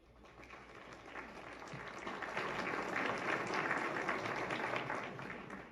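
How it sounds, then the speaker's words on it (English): Applause from the crowd at a Boston Bruins versus Buffalo Sabres hockey game, a steady wash of distant clapping that slowly swells louder and then eases toward the end. "They get some applause. Well done."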